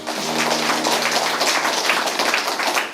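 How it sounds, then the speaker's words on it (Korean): An audience at a talk on marriage and mind study applauds, a dense, steady wash of many hands clapping that fills the whole moment, with a faint tonal hum underneath at first. "박수 부탁합니다."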